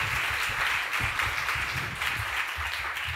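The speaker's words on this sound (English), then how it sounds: "If you'd give them a round of applause," Soft, steady applause from an audience at a youth literature book showcase, a faint, even patter of many hands clapping with low background murmur.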